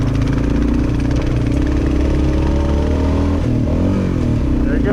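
A dirt-trail motorcycle on the Trans America Trail near Tellico Plains, Tennessee, revs hard and close after a missed gear shift, its steady, loud engine note flaring and dipping partway through.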